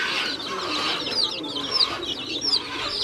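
Several chickens clucking and chirping close by, with repeated rising calls over a busy barnyard hubbub.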